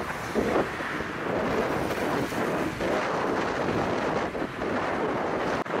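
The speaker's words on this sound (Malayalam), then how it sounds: "പൊരിഞ്ഞ കാറ്റ്, അതും നല്ല തണുത്ത കാറ്റ്." Strong, cold wind on a bicycle journey through Bahrain roars steadily across the microphone for the whole stretch, loud and unbroken, with no voices.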